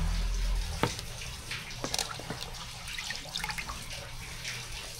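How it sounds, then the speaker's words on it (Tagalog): Water coming to a boil in a wok over a flame, with soft bubbling, occasional pops and dripping splashes against a low background hiss. Fairly quiet and close, with no voices. "Yan, nagpapakulo na po tayo ng tubig sa kawali."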